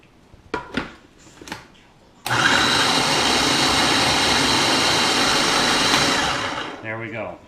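Food processor grinding chopped leeks for leek butter, a loud steady whirring roar that starts abruptly and runs for several seconds before winding down, with brief speech before and after.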